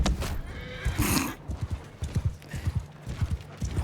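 A horse in the medieval combat game Mount & Blade II: Bannerlord gallops with rapid, close hoofbeats in a steady rhythm, joined by a short whinny early on.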